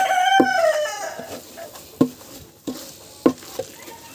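A rooster crows near the start among farm chickens at feeding time, followed by sharp pecking taps and soft clucks at irregular intervals, moderately close with no talk.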